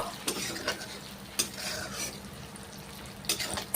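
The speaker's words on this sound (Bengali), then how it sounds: "দুটো ডিম এখন আমি ভেজে নিচ্ছি" Two eggs frying in a pan, a soft steady sizzle close by with a few clinks and scrapes of a utensil against the pan, no speech.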